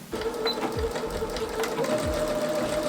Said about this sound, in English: Sew the tops together because it's kind of lined, but not really.